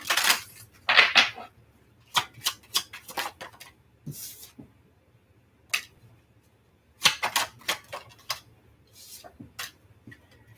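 A deck of cards is shuffled up close in bursts of quick crisp riffles and flicks, separated by short quiet pauses.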